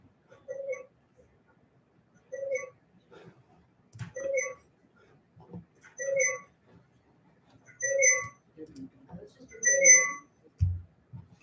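Electronic beep tones from online meeting software chime repeatedly as participants join a December SAC meeting, a series of regular short multi-tone beeps about every two seconds, with faint voices and room noise between them.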